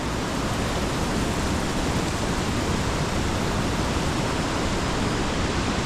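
Rushing water from a waterfall on the Yamunotri trek in monsoon season pours in a loud, dense, unbroken roar that fills the whole stretch, with no voices heard.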